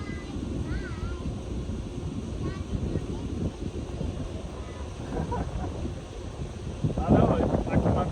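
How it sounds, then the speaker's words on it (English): Strong wind gusts buffet the microphone at an outdoor archery range, a continuous low rumbling roar that swells louder near the end, with faint voices underneath. "It's like 20 to 30 mile an hour wind gust right now."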